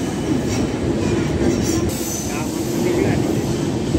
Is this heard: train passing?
yes